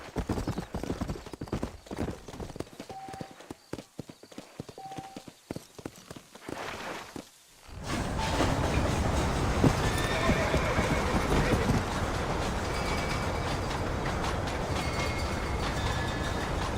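Horse hooves clip-clopping at a trot in the Red Dead Redemption video game, breaking into a loud, steady galloping rumble with a whinny, continuous and close.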